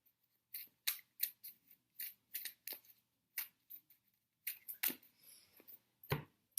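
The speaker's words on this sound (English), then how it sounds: "give your cards a good shuffle" Study flashcards being shuffled by hand at close range: a quick, uneven run of crisp snapping and flicking bursts separated by short pauses, heard on their own in a quiet room.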